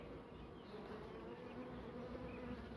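Honey bees swarm over a hive frame in a dense, continuous buzz, the steady hum of many insects close by with no voices.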